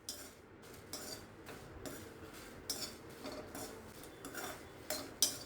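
Chilies roasting in a pan for an idli-dosa chutney powder, heard as faint, intermittent spatula scrapes and light metallic clinks against the pan, with no talking.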